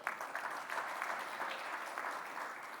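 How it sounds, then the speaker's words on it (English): Award winners at a banking summit receive audience applause, a soft, fairly distant wash of many hands clapping that holds steady throughout. "A big round of applause to everyone."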